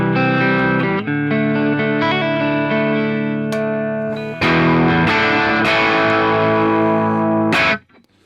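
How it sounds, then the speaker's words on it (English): Clean electric guitar tone from a PRS S2 through a Marshall SV20H amp, sustained ringing chords with a slight edge of grit, strummed in a few changes and ending with a cut-off. "So my clean tone sounds like this."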